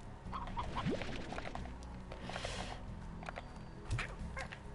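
Faint chicken clucks from the Slime Rancher video game chicken pen, scattered among soft game sound effects and a brief whooshing burst, all quiet and without talking.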